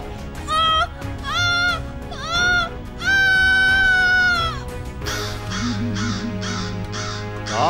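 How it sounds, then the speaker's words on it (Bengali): A cartoon crow caws loudly in four drawn-out, harsh calls, the last one longest, followed by a busier stretch of music and voices. "কাক এত ডাকছে কেন?"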